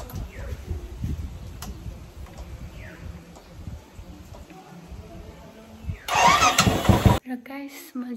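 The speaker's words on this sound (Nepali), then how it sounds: "अब चाहिँ मेरो हस्बेन्डको बाइक स्टार्ट गर्नु जान्छु म" A motorbike engine cranks and catches near the end, a loud sputtering start that runs about a second before cutting off, following a stretch of quiet household background with someone speaking.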